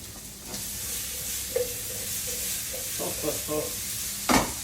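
Potato cubes sizzle in a pan after being seasoned with salt and pepper, a steady frying hiss broken by soft clinks and a louder knock near the end, close up with no talking.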